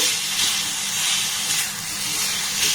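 Jaggery stirred in a pan over a low gas flame, a steady soft hiss with faint scraping movement, fairly quiet and uninterrupted.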